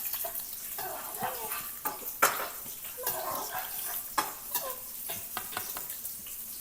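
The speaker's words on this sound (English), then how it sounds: "Okay, so we are frying the capers here." Capers frying in hot pancetta oil in a pan, a steady close sizzle with crackling spits and pops, punctuated by clinks and scrapes of stirring against the pan.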